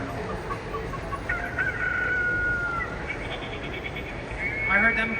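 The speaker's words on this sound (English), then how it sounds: "you can hear some chickens clucking" Chickens cluck and a rooster crows in a sound-effect display at the Traintopia model railway exhibit in Frisco, Texas, with a short crow rising over a steady bed of room noise and hum.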